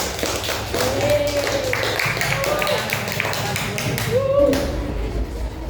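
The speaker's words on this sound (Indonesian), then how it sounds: "Tepuk tangan untuk kelompok 2." Sustained, dense applause from students in an Islamic jurisprudence class for a group, steady and fairly loud throughout, with voices mixed in.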